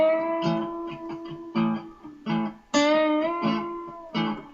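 An electric guitar plays a short minor pentatonic lead line with string bends, several quick notes and sliding pitches in a clear, moderately loud phrase with no talking.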